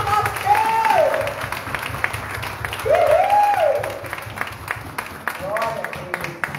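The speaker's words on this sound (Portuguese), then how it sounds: "Mais uma salva de palmas para Jesus." Church congregation applauding during a service, a broad wash of clapping from many hands under a voice speaking over it, swelling twice and then easing off.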